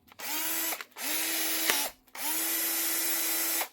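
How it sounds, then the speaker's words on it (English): Milwaukee M12 cordless drill, model M12 BPD with a new chuck, in a power-tool repair setting, whirring close and loud in three bursts with rising spin-up and short pauses between, no talking. "One Milwaukee M12 Drill,"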